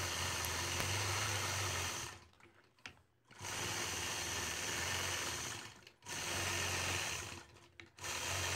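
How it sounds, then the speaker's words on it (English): A sewing machine stitches in the ditch around a quilt block, running in loud continuous bursts with short pauses between them. Three or four runs of stitching are heard close up, with no talking. "I'll complete this quilting by stitching in the ditch the remainder of the way around the outside"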